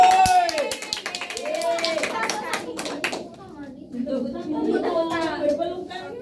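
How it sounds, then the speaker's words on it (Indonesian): Children clap in a classroom during a practice teaching lesson, a burst of scattered hand claps at the start, then lighter claps mixed with kids' chatter and voices throughout. "Oke, tepuk tangan teman-teman."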